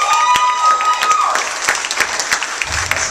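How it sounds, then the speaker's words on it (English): Audience at a spoken word poetry show bursting into dense, loud applause with a few whoops, sustained clapping that tapers slightly toward the end. "By a round of applause, how many people have seen spoken word poetry before?"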